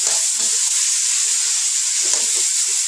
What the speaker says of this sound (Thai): จะผัดเลยจ้ะ